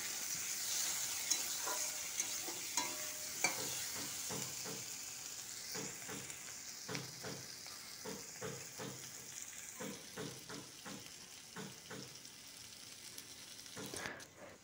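Diced potatoes with chopped onion, tomato and chilli fry in a pan for aloo chola tarkari, giving a soft steady sizzle broken by repeated scraping strokes of a spatula stirring the mixture.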